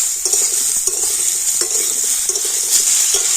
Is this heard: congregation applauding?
no